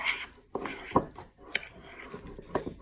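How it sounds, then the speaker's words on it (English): Utensil stirring food in a pan seasoned with pink salt, with intermittent scraping and light clinks against the cookware, a voice speaking quietly in the background. "And so now we're just going to stir everything up."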